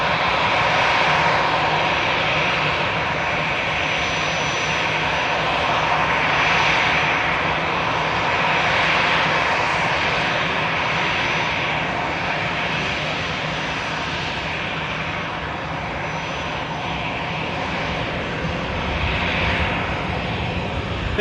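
Jet airliner engines spooling up to apply thrust at Manchester Airport, a loud continuous roar with slowly swelling whine, heard from a distance for over twenty seconds without talk.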